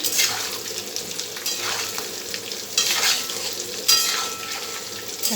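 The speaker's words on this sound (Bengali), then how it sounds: "কত সুন্দর লাল লাল করে ভাজা হয়েছে।" Potatoes fry in oil for a vegetarian aloo dum and are stirred repeatedly, giving a close, lively sizzle punctuated by scraping strokes against the pan, with no voices.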